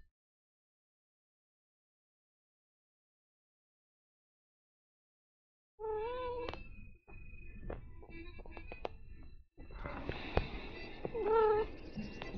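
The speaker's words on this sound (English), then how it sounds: "Here comes the cat." Cat meowing in a video game: after nearly six seconds of silence come several cries and meows in bursts, with short gaps and louder caterwauling toward the end, near and distinct.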